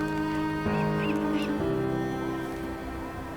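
A few honking bird calls in a video game ring out over a droning synthetic backdrop, loud at first and then trailing off into steady ambience.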